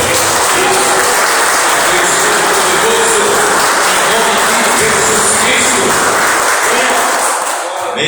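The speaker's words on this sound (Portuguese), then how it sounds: "Então dê uma salva de palmas para o Senhor" Sustained applause from a congregation during an evening church service, a dense steady wash of clapping lasting several seconds before thinning out at the end.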